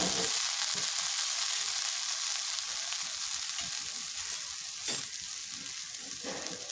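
Oil frying in a pan at the start of cooking white pulao: a steady, close sizzle with dense hiss that holds throughout, and one brief louder crackle partway through. No one speaks.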